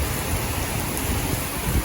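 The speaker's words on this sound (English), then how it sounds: "When it rains here, it rains." Heavy rain from a thunderstorm in Pattaya, Thailand pours down steadily in a dense, hissing wash, close and constant with no voices.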